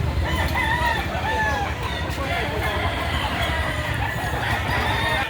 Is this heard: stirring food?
no